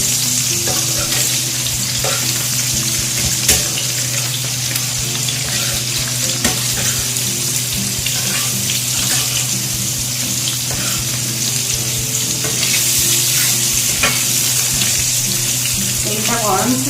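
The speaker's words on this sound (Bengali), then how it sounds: "এগুলো একটু করে ভেজে নেবো, একটু ভেজে নিয়ে তুলে রাখবো ডিমগুলোকে।" Eggs frying in hot oil on a tawa: a loud, continuous bubbling sizzle fills the whole stretch, close up, with occasional clicks of a utensil against the pan.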